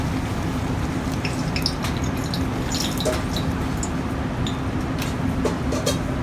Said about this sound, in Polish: Możemy sobie podlać tą wodą delikatny sos, uzyskać lepszą konsystencję.